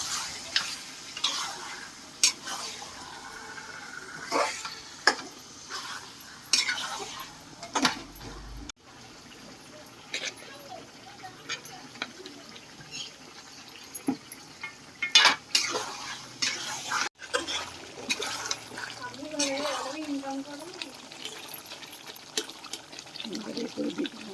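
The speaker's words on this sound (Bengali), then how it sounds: "মাংসটা কষিয়ে নিচ্ছি" Chicken meat being sautéed in a pan for biryani, with intermittent scraping and clinking of a spoon against the pan over a soft sizzle, fairly quiet and close, with occasional talk.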